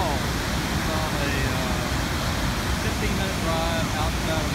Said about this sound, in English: There's the falls. DeSoto Falls.